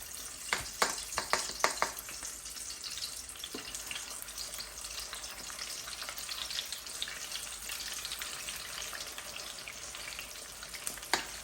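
Steady crackling sizzle of chicken wings frying in hot oil, bubbling continuously throughout, with a few sharper pops near the start.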